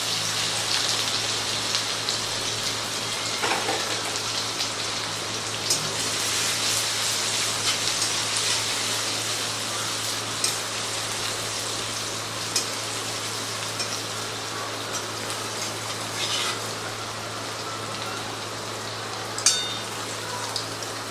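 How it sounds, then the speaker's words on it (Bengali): Chopped ginger with cumin seeds and green chilli sizzles steadily in a pan of hot oil, a dense even crackle with occasional louder pops and stirring scrapes, close and with no talking. "তো বন্ধুরা আদাটা ভাজা হয়ে গেছে"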